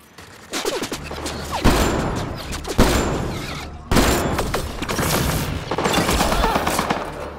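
Turret gunfire in the video game Mass Effect Andromeda, played on PS4 Pro, roars in loud, sustained automatic bursts with sharp blasts, a dense continuous barrage with faint voices underneath.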